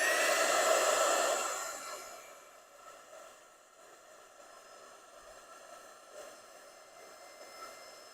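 A heat gun blows a steady hiss of air onto heat shrink tubing, loud at first and then dropping to a quieter, continuous whoosh.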